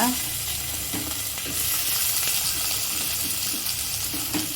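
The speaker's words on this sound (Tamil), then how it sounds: "பெரிய வெங்காயத்தை போட்டுக்கோங்க" Onion sizzles and crackles steadily in hot oil with fennel and cloves, a close, continuous frying hiss with occasional soft stirring scrapes and no voices.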